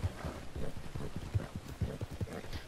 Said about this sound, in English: I'm just gonna ride a horse and sing.